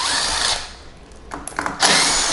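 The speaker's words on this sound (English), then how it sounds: "I'm going to swap to a drill just so we're not here all day" A power drill whirs in short bursts, close and loud, backing out the wheel screws on a Pride Mobility Baja Bandit mobility scooter, with brief pauses and clicks between runs.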